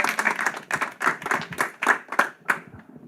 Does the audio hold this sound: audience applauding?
yes